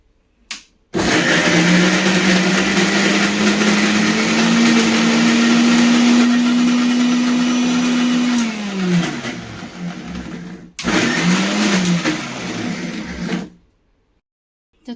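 A mixer grinder blends ginger and garlic into a paste with no water added, its motor a loud steady whine for about ten seconds, winding down, then running again briefly after a short pause.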